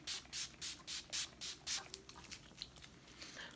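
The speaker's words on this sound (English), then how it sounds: "Just spray this off our face" Urban Decay All Nighter setting spray misted onto a face: about six quick hissing pumps in a steady rhythm, close and fairly loud, then fading to quieter rustling.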